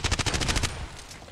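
Rapid automatic gunfire in the online shooter Contract Wars, about eight evenly spaced sharp shots in quick succession, loud and close, then trailing off into fainter scattered reports.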